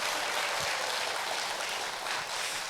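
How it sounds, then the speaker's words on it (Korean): An audience claps at an outdoor evening folk performance, a dense and even wash of applause that holds steady for a few seconds with no voices over it. "화사해진 분들은 만 박수를 크게 한번 쳐주십시오."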